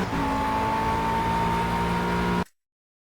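McLaren MP4-12C engine at Laguna Seca in Project Cars, a steady sustained drone with a held tonal whine, loud and close, cutting off abruptly near the end.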